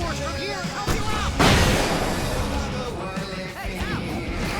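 Fireworks going off in the video game Alan Wake, a dense barrage of bangs and crackles with a big burst partway through, mixed with loud game action and shouting voices.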